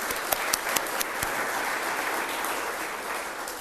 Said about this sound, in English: give it up for another round of applause for this incredible building